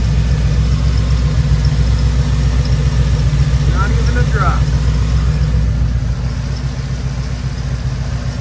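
An LS-swapped BMW E36 engine idles steadily with a low, even rumble throughout, while someone talks briefly over it.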